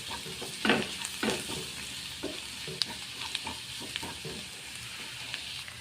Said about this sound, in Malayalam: നല്ലോണം വഴറ്റിയെടുക്കണം കേട്ടോ.